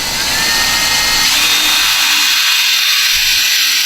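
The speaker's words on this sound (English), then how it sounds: "take your drill and find that center hole, that center mark, and drill a hole." A power drill whines steadily and loudly at close range, its pitch shifting slightly as the bit bores through material, with no talking.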